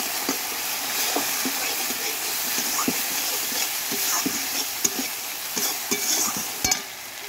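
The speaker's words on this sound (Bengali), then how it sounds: "দিয়ে দেবো হলুদ গুঁড়ো, এখন আমি নেড়ে নেব।" Turmeric powder is stirred in a frying pan, with repeated scraping knocks of a spoon against the pan over a constant close sizzle.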